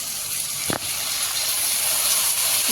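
Ginger, cumin, black pepper and green chili paste hits hot oil for a rohu fish curry, giving a loud, steady sizzle and hiss throughout, with a brief soft thump near the start.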